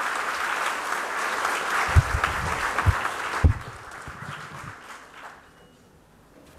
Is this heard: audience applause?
yes